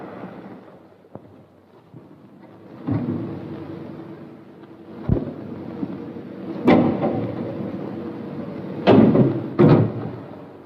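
Thunder on a stormy night in a 1948 Hindi film, heard as several sharp cracks and rolling rumbles over a dull, steady low roar, with no voices.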